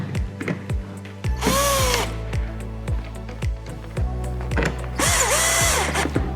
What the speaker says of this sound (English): And replace the piston and begin replacing the screws.